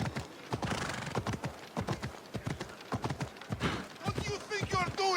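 A horse gallops in the video game Assassin's Creed Odyssey, its hoofbeats thudding in an even, driving rhythm close up, with a shrill whinny breaking in near the end.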